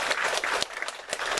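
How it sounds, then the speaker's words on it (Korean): A church congregation claps in a brief, moderately loud round of applause to welcome a visitor, with a few sharp individual claps standing out. "우리 큰 박수로 환영하도록 하겠습니다."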